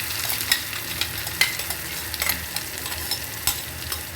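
Onion and garlic paste frying in hot oil for a fish curry, giving a steady close sizzle broken by scattered sharp crackles and spoon scrapes, with no talking.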